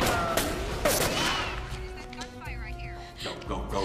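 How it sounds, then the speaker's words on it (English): Gunfire in a Wrigley Building boiler room and maintenance tunnels comes as loud, rapid bursts of shots with crashing impacts, thick at the start and then thinning into scattered echoing hits over a chaotic background. "There's gunfire right here."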